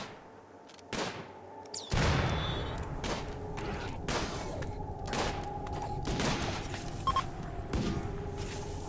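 Rapid bursts of assault rifle fire in the colony game Rimworld, with a dense run of sharp cracks and booms over a constant rumbling battle din, loud and close.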